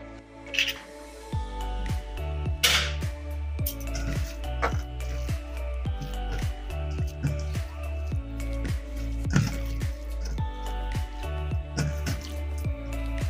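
Fish roe fritter mixture with egg, onion, green chilli and a little flour is squished and mixed by hand, giving wet, sticky squelches in a steady, repeated rhythm, close and moderately loud.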